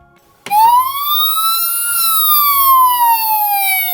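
A loud ambulance siren wails close by, its pitch sweeping up and then slowly falling, with faint low rumbling underneath.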